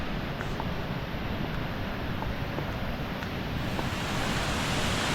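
Steady, dense roar of rushing water from Jogini waterfall near Vashisht village outside Manali, Himachal Pradesh, heard in rain and fog; a constant broadband wash with no talk over it.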